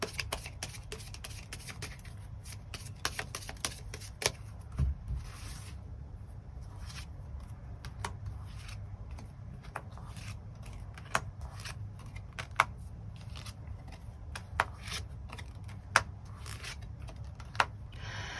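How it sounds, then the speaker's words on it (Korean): Tarot cards are shuffled and drawn up close, a soft continuous rustle broken by scattered crisp snaps and taps, quiet and without speech. "추가 카드 뽑아보도록 하겠습니다"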